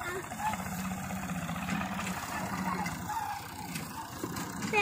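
Tractor engine running in a village paddy field in Jaffna, a steady low rumble heard throughout while people talk over it.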